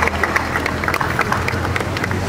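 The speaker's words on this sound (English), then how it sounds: "Let's give them a round of applause as well." A crowd at the Hollywood Walk of Fame star ceremony for the Wizard of Oz Munchkins applauds steadily, a dense, close wash of clapping throughout.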